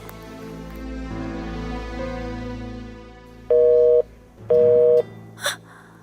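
A telephone ringback tone sounds during an outgoing call, with two long steady beeps separated by a short pause. Before it, a low rumbling background fills the opening seconds, and a brief breath or gasp follows at the end.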